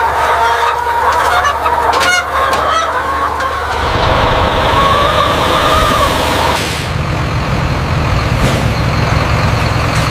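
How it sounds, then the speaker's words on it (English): Chickens on a chicken farm cluck and squawk together in a loud, busy barnyard din, with a low engine-like rumble taking over partway through. "On carefully managed chicken farms, healthy birds are raised with care, hygiene, and strict quality standards."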